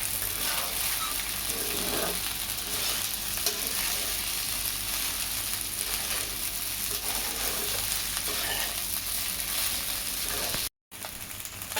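Sabudana stir-fried in a pan, a dense continuous sizzle with light scraping from stirring, close and steady, with a momentary dropout near the end.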